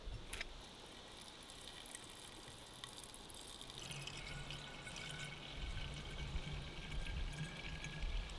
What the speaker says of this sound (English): I'm gonna top this off with some more water.